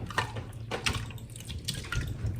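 Gelatin-rich bone broth from home pressure canning pours into jars with soft gurgles and splashing drips, faint and close, with no voices.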